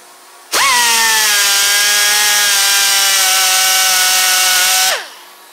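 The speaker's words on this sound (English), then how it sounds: "this is a 80 grit grinding disc." An angle grinder fitted with an 80 grit grinding disc scuffs metal on a scooter gearbox, spinning up to a loud sustained whine with a strong tonal pitch that holds steady, then winds down and stops.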